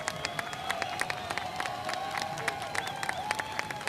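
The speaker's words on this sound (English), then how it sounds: "Let's give another round of applause for the class of 2022." A crowd applauds the graduating class of 2022 at the Plattsburgh High School commencement, a sustained patter of clapping with scattered cheers, moderately distant and even in level.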